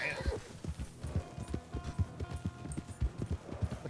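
Horse hooves clip-clopping in a quick, regular rhythm in the RedM roleplay game, with a short neigh near the start; the hoofbeats sound close and fairly quiet.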